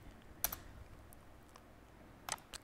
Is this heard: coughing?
no